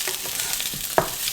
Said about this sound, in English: they've been frying for about 7 to 10 minutes